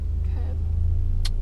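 A learner's car idles in reverse during a UK driving lesson, a steady low engine rumble running throughout with a faint voice partway through and a brief hiss near the end.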